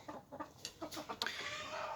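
A Siberian fowl, an old Russian chicken breed, clucks in a string of short, close calls that build into a longer, drawn-out cry.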